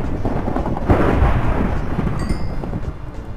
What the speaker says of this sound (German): Boah, das ist ja Donner, ne?